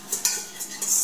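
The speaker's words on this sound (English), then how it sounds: "I'm whisking the butter with the flour" A metal whisk scraping through butter and flour in the bottom of a pan for a roux, quick bright clinks and scrapes in a short close rhythm.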